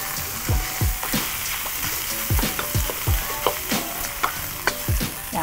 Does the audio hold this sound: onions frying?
yes